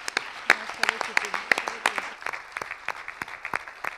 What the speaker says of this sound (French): Je vous demande un tonnerre d'applaudissements pour Julien Démé.